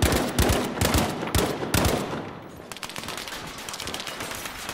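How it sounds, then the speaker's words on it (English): Rapid machine gun bursts in Battlefield V multiplayer combat in Rotterdam, several loud stuttering volleys up close, then sustained quicker fire fading slightly lower. "No, it's a machine gun."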